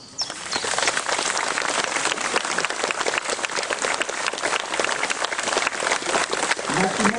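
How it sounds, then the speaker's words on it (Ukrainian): A crowd applauds at a Ukrainian memorial ceremony at a cemetery in Przemyśl, dense sustained clapping from many hands filling the whole stretch at a steady level. "подякуємо їм оплескам"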